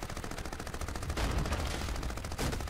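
Sustained gunfire from the first-person shooter Crysis Remastered, a dense run of rapid automatic shots with heavier bursts near the middle and end, fairly quiet overall and with no voices.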